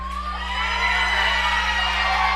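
A professional wrestling crowd cheers and roars steadily, loud and sustained, over a low steady hum, with scattered whoops rising from the dense noise.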